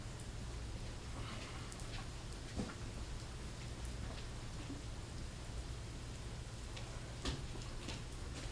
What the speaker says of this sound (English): Hearing the rain is soothing, yeah.